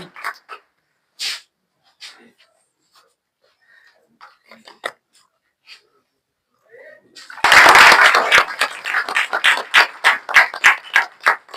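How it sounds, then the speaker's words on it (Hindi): At an award ceremony at MSIIT Group of Institute, a student receiving second rank is greeted by a sudden wave of dense audience applause that thins into scattered individual claps. Quiet rustles and murmurs come before it. "तो जोरदार एक ताली बजा दीजिए खुशबू का"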